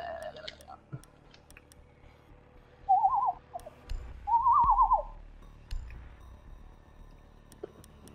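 Two short, warbling whistled phrases from a person ring out in quick succession over a quiet background during a Rainbow Six Siege match, with faint ticks and thumps around them.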